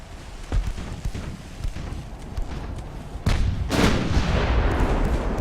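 Naval gunfire from 8-inch guns in the warship game Ultimate Admiral: Dreadnoughts, a series of loud booming shots with a heavier sustained salvo rumble in the second half, no talking.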